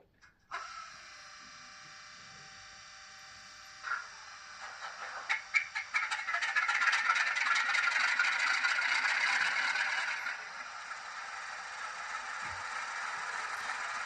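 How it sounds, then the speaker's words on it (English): Startup sequence from a Graham Farish Class 47 diesel locomotive model with DCC sound: faint clicks and a brief whir, then a building rattling, clattering engine note that settles into a steady, moderately loud mechanical hum. "you can do a normal fuel pump on and warm start, which I'll do now"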